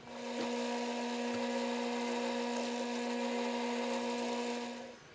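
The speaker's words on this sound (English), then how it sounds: "we'll drill all the way through both walls." A drill with a 1/8-inch bit bores through metal pipe conduit, a steady high whine held for about five seconds before it winds down, with no talking.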